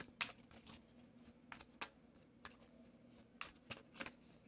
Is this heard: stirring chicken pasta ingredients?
no